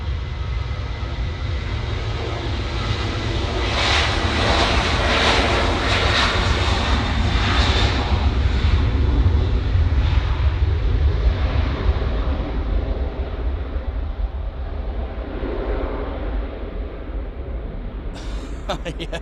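A plane climbs or passes over Manchester Airport, its jet engine roar swelling loud to a peak midway and then slowly fading into a distant rumble, with a voice talking briefly during it.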